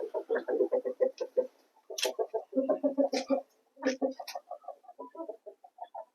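Chickens cluck close by in rapid, choppy bursts, with a few sharper squawks mixed in and brief pauses between calls.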